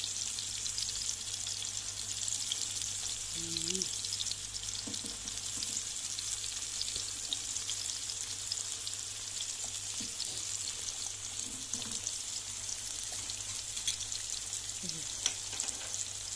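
Eggs frying in a pan, a steady broadband sizzle running unbroken throughout at moderate level, with faint voices now and then underneath.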